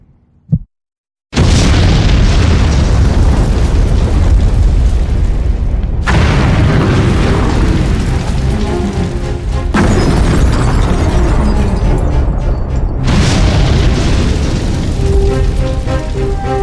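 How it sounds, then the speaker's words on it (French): Repeated film explosions from a Michelangelo Antonioni and Tonino Guerra film: after a brief near-silent start, loud, dense roaring blasts that keep going, breaking into several fresh bursts, with no talking. "Les créateurs de ces explosions sont Tonino Guerra et Michelangelo Antonioni."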